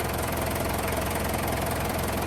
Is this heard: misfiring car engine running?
yes